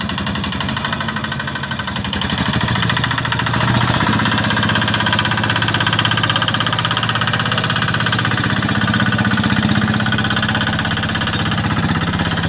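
A heavily loaded sugarcane truck carrying about five to six tons climbs a hill in a low slow gear, its engine labouring in a loud, continuous, rhythmic knocking drone that stays close and steady throughout.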